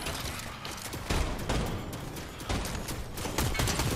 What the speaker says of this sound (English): I'm shooting a ninja. He's he's he's low.